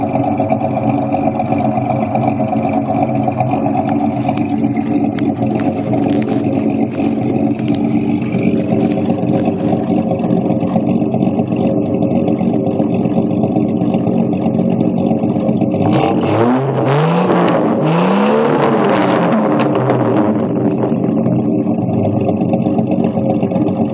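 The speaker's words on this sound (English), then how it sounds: "You hear it? Straight six." A Chevy inline six engine runs steadily nearby with a constant rumbling drone. Around the middle there is a brief rev that rises and falls. No one speaks.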